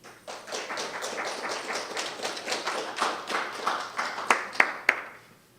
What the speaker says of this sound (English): Please give a welcome of applause to Mr. Lee Churulich.